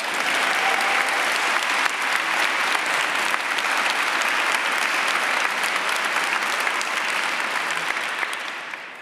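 Loud, sustained applause from a live audience at a German academic slam event on antiquity, a dense wash of clapping that holds steady for nine seconds before tapering slightly at the end.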